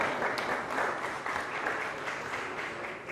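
Staff at an Angie Craig supporters' event clap for the crowd: dense, steady applause from many hands that holds at an even level throughout, with no talk over it.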